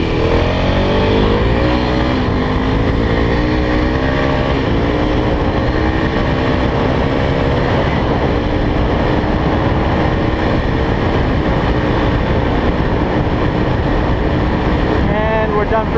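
A Kawasaki KLX 351 dirt bike engine drones loud and close throughout, its pitch wavering as the rider cruises along.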